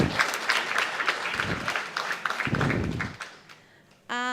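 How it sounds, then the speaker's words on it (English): An audience claps and cheers for the mentors at a junior hackathon event. The dense applause runs for about three seconds, then thins out and fades to quiet. "Have a massive round of applause for all the mentors."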